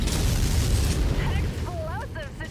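Mech ammunition cooking off in MechWarrior 5: a dense, loud booming roar of explosions filling the first second and a half, then easing into a lower rumble while bright chirping effects rise over it.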